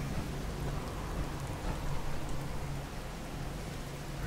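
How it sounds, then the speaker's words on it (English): Steady heavy rain pours without a break in a video game, with a deep low rumble of thunder rolling underneath throughout. "Really raining."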